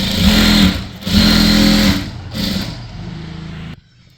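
A sewing machine stitches along the fabric edge of a chudithar pant, running loud and close in three separate bursts of whirring motor and needle chatter, each stopping briefly, before a final halt into silence.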